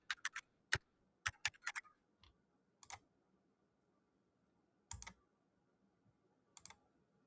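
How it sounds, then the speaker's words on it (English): Bursts of computer keyboard typing, sharp clustered clicks in a few quick groups separated by pauses, close and fairly quiet. "let me just type it in"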